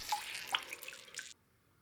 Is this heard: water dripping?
yes